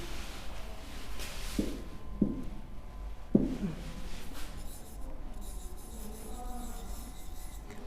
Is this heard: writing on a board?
yes